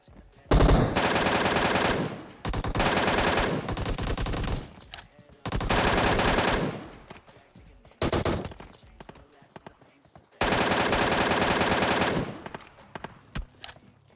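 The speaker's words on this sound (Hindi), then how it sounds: "मैं निकालता हूं अपनी MK14।" Bursts of rapid automatic gunfire from an MK14 rifle in PUBG Mobile, several long volleys separated by short pauses, loud and close.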